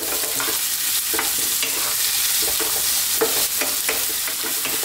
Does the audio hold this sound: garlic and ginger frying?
yes